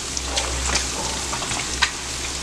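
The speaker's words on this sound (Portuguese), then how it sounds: "meu toicinho tá fritando." Pork fat (toicinho) frying in a pan for lunch sizzles steadily and close up, a continuous crackling hiss with small pops, with no talking.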